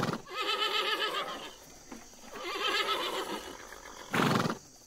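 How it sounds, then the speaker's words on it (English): On a farm, a horse gives two long, loud whinnies, one after the other, followed by a short snort. "Did you say there are horses on the farm?"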